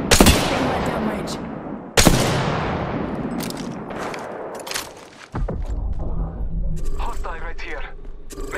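Gunfire in Apex Legends played on Xbox Series X: sharp, loud bursts of shots crack out at the start and again about two seconds in, trailing into clattering game sounds, with voices speaking over it.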